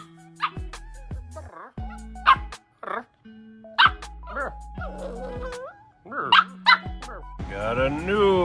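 Two pet dogs at home yip and bark in short repeated bursts over several seconds, close by, mixed with people talking.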